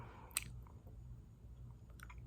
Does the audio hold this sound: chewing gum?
yes